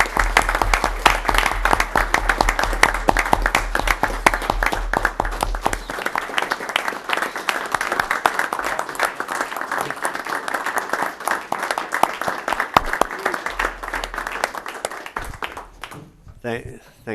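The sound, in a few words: board meeting audience applause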